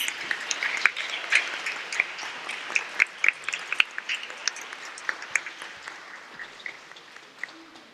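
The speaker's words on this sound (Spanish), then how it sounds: "me resta pedirles un aplauso para nuestros brillantes especialistas" Moderate audience applause at an academic colloquium, a smallish crowd clapping with distinct individual hand claps over a soft wash that gradually thins out.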